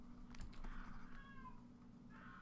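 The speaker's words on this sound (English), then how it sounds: "He's really old and he's deaf, so he can't hear himself while he's meowing" An old, deaf cat meows loudly and hoarsely indoors, a few drawn-out cries spaced over a couple of seconds, close and fairly faint in level, with light clicking in the background.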